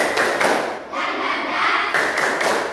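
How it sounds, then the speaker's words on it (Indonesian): A school class does a rhythmic spirit clap together in a classroom. Bursts of unison claps and thumps come in patterned groups over a steady wash of young voices chanting along. "Tepuk semangat"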